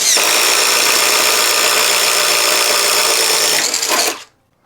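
A Ryobi cordless impact driver drilling, a loud, steady high-pitched whir running continuously for about four seconds, then spinning down and stopping abruptly.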